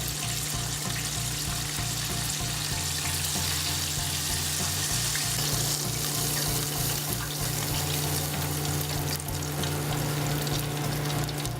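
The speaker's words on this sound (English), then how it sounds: "it was completely submerged under the oil and then now it's like floated up" Beer-battered fish deep frying in a pot of oil, giving a steady, dense, close sizzling hiss with constant bubbling, unbroken and without any talk throughout.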